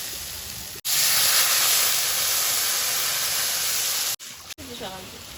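Water poured into a pan of potatoes frying in spices, a loud, close, steady hiss of steam that rises suddenly, holds for several seconds and then cuts out with a brief break and a voice at the end.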